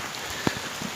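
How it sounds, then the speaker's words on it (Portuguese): Steady rain falls in a rainforest, a dense even hiss of drops with one distinct close drip standing out briefly. "Domingo de manhã, começou a chover agora."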